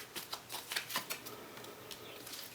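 Tarot cards are shuffled by hand in a series of quick, close riffling bursts, loudest early and thinning toward the end, with no talk.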